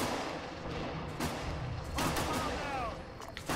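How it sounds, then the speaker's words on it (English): Mortar fire and other gunfire rumble continuously through a busy battlefield in the video game Arma 3, with repeated booming reports over dense noise and a voice faintly present. "hopefully mortars will help be able to take those guys out"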